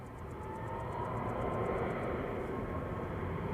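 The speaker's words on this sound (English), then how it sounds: "Ryanair to Faro departing in the background, 9HVUW on Max 8." A Ryanair Boeing 737 Max 8 departs Manchester Airport, heard as a steady, fairly loud low jet roar that swells slightly and holds through the clip, with no talking.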